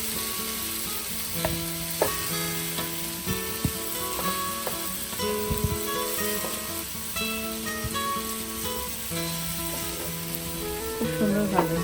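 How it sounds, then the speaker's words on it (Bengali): Cauliflower pieces frying golden brown in oil for a Bengali meal, a continuous crackling sizzle with occasional clinks and scrapes of stirring and utensils, close and steady throughout. "গোল্ডেন ব্রাউন করে ভেজে নেবে। ফুলকপি ভাজা হয়ে গেছে"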